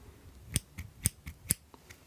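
Small mini scissors clicking in an ASMR medical-exam roleplay: about five sharp, close, crisp snips spaced unevenly, with fainter clicks between them against a quiet background.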